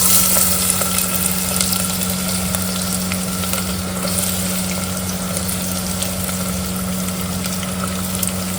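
Onions and garlic fry in mustard oil with green chillies, a loud, steady, close sizzle running unbroken over a low constant hum.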